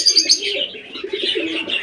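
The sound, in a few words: pigeons cooing at a pigeon farm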